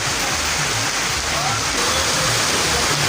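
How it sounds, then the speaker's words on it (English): Heavy August rain pours down in Nigeria, a dense, loud, unbroken roar of falling water with no pauses over a few seconds. "I'm going to put a clip of the rain falling in August right now."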